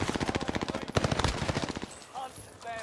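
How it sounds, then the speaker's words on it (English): Rapid automatic gunfire in a first-person shooter video game rattles in a fast, steady burst for about two seconds, loud and close, then trails off into quieter background game sounds. "We're getting shot from behind."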